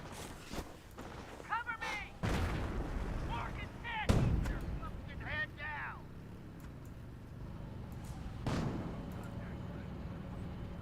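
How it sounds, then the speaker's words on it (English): Incendiary mortar barrage in the WWII strategy game Company of Heroes, with a few sharp booming impacts and crackling bursts over a constant rumbling battle bed, mixed under a commentator's ongoing talk. "Oh, there it goes. It was incendiary mortar."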